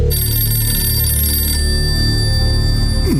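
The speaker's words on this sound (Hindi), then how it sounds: "आखिर तुम फोन क्यों नहीं उठा रहे इस्माइल?" A telephone rings on and on with nobody picking up, a steady electronic tone held over a low hum for the full length, loud and close, with no voices.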